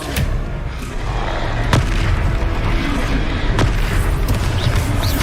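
In the Hogwarts Legacy video game, spell blasts go off as several sharp booming bursts spread across a few seconds. They sit over a dense, rumbling game soundscape.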